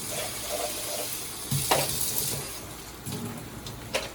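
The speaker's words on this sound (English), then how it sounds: "I'm gonna go ahead and I'm gonna put the rest of the water into the pot" Water poured into a cooking pot of stewing pork feet, a soft continuous splashing with a few sharper splashes and knocks, fairly faint and close.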